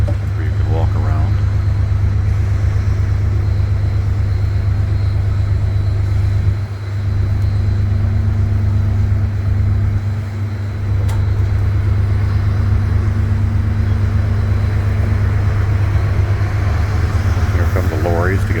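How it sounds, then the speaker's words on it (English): Heavy lorries arriving at the Bergen cruise port to collect cargo, a steady loud low engine rumble and drone throughout with brief dips, wind and ship noise mixed in. "Here come the lorries to get the cargo."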